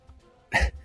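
A voice imitating a wet, inhuman burp from a goo creature in a tabletop roleplaying game, one short, guttural gulp-like burst after near silence, close and brief.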